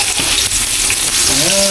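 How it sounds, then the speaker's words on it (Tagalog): Garlic and onion sauté in a pan for a bihon guisado, a steady broadband sizzle filling the short span, with a faint clink of utensils and a brief tonal squeak near the end. "Gigisa na tayo ng bawang at sibuyas."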